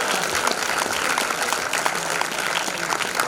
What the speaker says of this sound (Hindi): Let your claps echo throughout this auditorium.